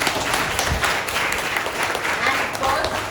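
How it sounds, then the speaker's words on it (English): An audience at a college book event with a young author claps in a sustained round of applause, dense and fairly loud throughout. "Big round of applause."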